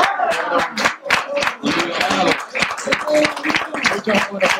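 Audience applause at a Spanish-language evangelical gathering, a dense patter of many hands clapping steadily for several seconds with crowd noise throughout, fairly close and loud.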